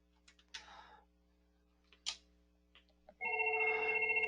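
An IP phone rings after extension 1051 is dialed. A few soft clicks and taps come first, then a close, electronic ringtone starts near the end and keeps going steadily.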